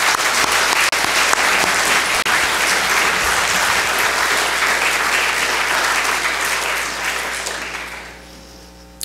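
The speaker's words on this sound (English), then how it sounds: "would you please join me in just a round of applause to say thank you?" A church congregation applauds the participants of a Christmas program, a full sustained clapping that holds for several seconds, then tapers off and fades to near quiet at the end.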